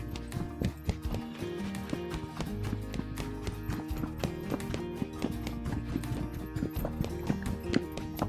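Horse hooves clop steadily on the ground as the horse shifts gait and breaks into a canter, a continuous close rhythmic beat of footfalls.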